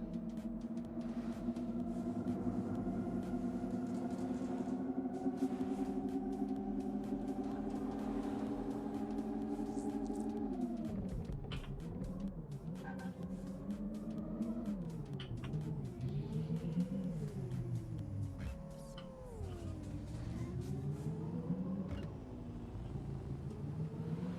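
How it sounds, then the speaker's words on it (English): A steady electronic whine with layered tones holds level, then swoops up and down in pitch like a vehicle speeding up and slowing, continuous and fairly loud. "Is this what electric cars sound like?"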